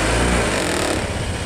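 A 2021 Honda PCX scooter engine accelerates with a loud, steady, buzzing drone heard up close for a short stretch with no talking.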